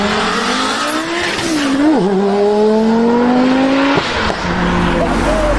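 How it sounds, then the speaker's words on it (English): An Audi five-cylinder engine revs hard and close, its steady droning tone climbing in pitch, dipping briefly, then rising again over several seconds with no talking. "what they're most well known for, is their impeccable 5-cylinder engines. These things sound amazing."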